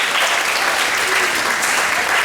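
Students at a school moving-up ceremony clap for their parents and loved ones, a dense, continuous wash of applause from a large crowd filling the room, steady and loud throughout.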